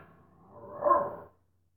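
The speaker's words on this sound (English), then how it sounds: "all of a sudden you're going to start barking?" A pet dog gives a short, fairly close bark or yelp in an indoor room, one rough burst rising and fading within about a second, with no other sound around it.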